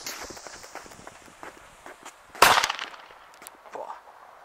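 A red Corsair firecracker from Fire Event bursts with one sharp, loud bang midway, preceded by faint crackling and rustling, with a smaller pop shortly after.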